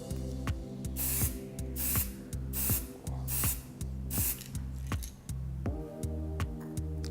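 Touch-up paint for a decorative door sprayed from an aerosol in several short bursts, each a bright hiss lasting about half a second, repeated at a steady pace over a low background hum.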